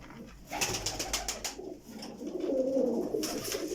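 Pigeons coo in low rolling calls, the loudest near the end, mixed with rustling and fluttering handling noises close by.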